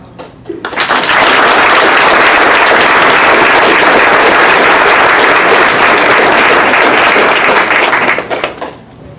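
An audience breaks into loud, sustained applause and cheering that swells within the first second, holds dense and steady for about seven seconds, then fades quickly at the end.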